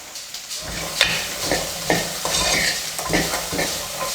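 Boiled peanut sundal is stirred and sautéed in hot oil, a soft sizzle under repeated scraping strokes of a spoon against the pan at a steady rhythm, close and fairly loud.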